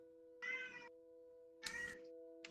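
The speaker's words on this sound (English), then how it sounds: "Yep, that's my cat." A pet cat gives two distinct meows, close and clear, separated by a short pause over a faint steady electrical hum.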